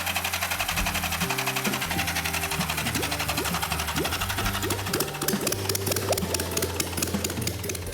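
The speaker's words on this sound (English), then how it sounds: "As soon as I put power to that red wire, like a light switch, it started right up." A 1949 truck engine, run without fuel tank or exhaust and fired by electronic ignition, catches and keeps running with a loud, steady, rapid mechanical clatter and rhythmic knocking throughout.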